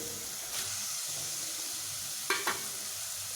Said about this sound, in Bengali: সেই মুহূর্তে আমি যে ছানাগুলো নিয়েছিলাম সেই ছানাগুলোকে এখন আমি এখানে দিয়ে নিই